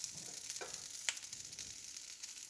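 Tortillas fry on a stovetop with a faint, steady sizzle, a couple of soft clicks and pops breaking through the quiet hiss.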